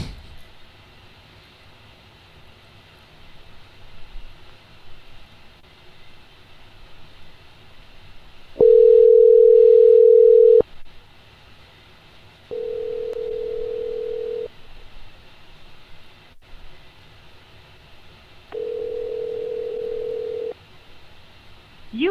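A phone call placed to someone's number rings out on the line as several long, evenly spaced electronic tones, separated by gaps of quiet hiss.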